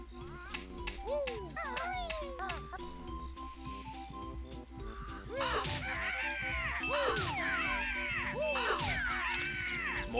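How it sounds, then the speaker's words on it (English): Cartoonish crow caws from the Banjo-Kazooie video game repeat in a steady run over game music, with several calls overlapping as the sound grows busier midway. "More birds."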